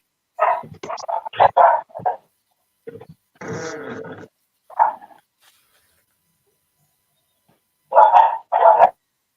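A dog barks in loud, sharp bursts, several quick barks in clusters separated by silent pauses, close and alone with no talking.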